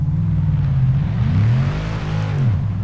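A Ford Mustang engine in Forza Horizon 3 rumbles and revs close up, its low growl swelling and dipping through a couple of throttle blips with no talk over it.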